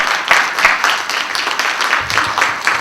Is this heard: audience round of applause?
yes